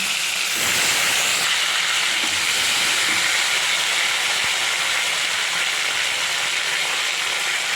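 Washed, cut potatoes dropped into hot oil with tempered spices, frying with a steady, loud broadband sizzle and hiss that runs unbroken throughout, with no voices over it.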